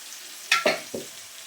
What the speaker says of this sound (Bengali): এইভাবে মশলাটাকে আমি ভেজে নেব